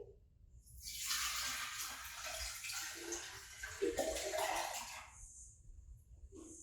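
Water pours into a jar in a steady, fairly faint splashing stream lasting several seconds, with a slight gurgle near the end before the flow eases off.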